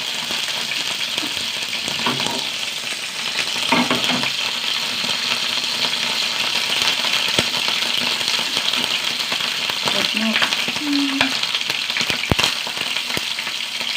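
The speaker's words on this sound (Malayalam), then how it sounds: "ഉണക്ക മീൻ വറക്കട്ടെ കറിവേപ്പിലിട്ട് സംഭവം" Dried fish fries with curry leaves in hot oil, giving a loud, continuous crackling sizzle with scattered pops and occasional metallic clinks from the pan. No voices are heard.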